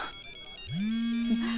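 A mobile phone ringtone chimes in a room, a rhythmic patter of electronic notes followed by a sustained rising tone, heard under background talk.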